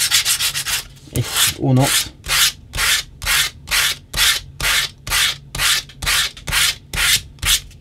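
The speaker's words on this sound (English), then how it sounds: "I am going to give it another very quick hit with some 80 grit sandpaper." Sandpaper of 80 grit rubbed in quick, regular back-and-forth strokes over a leather baby shoe part, about a dozen loud close scrapes in steady rhythm with no talking.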